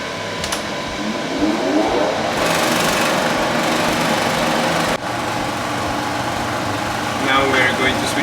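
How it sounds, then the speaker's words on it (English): An extractor fan hums steadily at a cryptocurrency mining farm, a continuous whirring drone that fills the whole stretch at close range, with a brief dip midway and some faint background voices. "Now I'm gonna connect the extractor."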